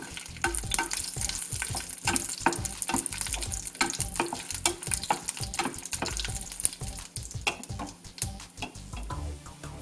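Mustard seeds and dried red chillies tempering in hot oil for Kerala-style kumbalanga pulissery: a dense, close sizzle crowded with rapid irregular pops and crackles, fairly quiet and continuous, with no voices.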